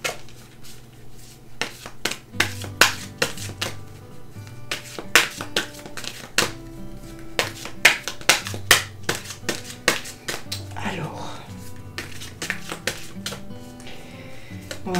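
Oracle cards are shuffled by hand in a series of quick, crisp slaps and flicks, irregular and close, over soft background music.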